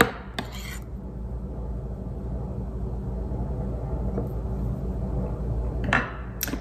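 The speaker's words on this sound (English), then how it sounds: "we'll go ahead and mix this together" Ingredients for baked fish being stirred together in a bowl, soft continuous scraping and rubbing with a few sharp clinks of utensil against the bowl at the start and near the end, close and alone.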